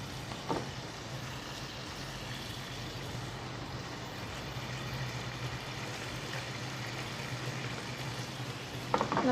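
Steady, close sizzling of fried fish laid into hot gravy in a pan while cooking Kerala fish pollichathu, a dense continuous hiss with a brief clatter near the start and end.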